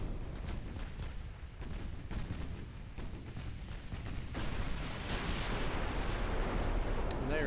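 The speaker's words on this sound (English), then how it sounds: "our 14-inch guns rip through their hulls, causing massive floods every single time" Heavy 14-inch battleship guns fire in a naval video game, a dense rumbling barrage of booms with sharp cracks that swells louder and brighter in the second half, continuous and close.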